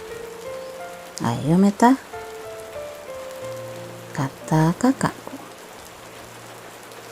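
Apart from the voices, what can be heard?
heavy rain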